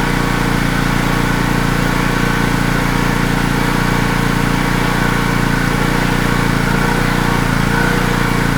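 A small generator engine runs at half choke, a loud, close, continuous motor drone with a slightly uneven, surging beat throughout, no talk.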